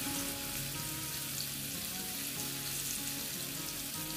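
Pomfret fish frying in hot oil in a wok, a steady even sizzle that stays close and constant throughout.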